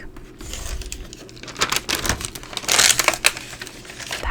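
Tissue wrapping paper inside a sneaker box rustles and crinkles up close in soft, irregular bursts, growing denser and louder toward the middle before settling into lighter crackles.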